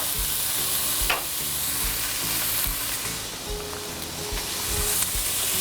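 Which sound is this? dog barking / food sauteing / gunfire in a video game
food sauteing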